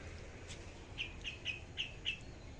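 Several short, high bird chirps repeat at a quick, uneven pace, fairly clear over a quiet garden background.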